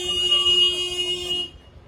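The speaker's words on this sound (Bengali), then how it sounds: "আগের থেকে তো হর্ন দিতে হয়, এখানে এসে হর্ন দিচ্ছে।" A vehicle horn sounds in a narrow residential lane, giving one steady tonal honk for about a second and a half before cutting off, fairly close.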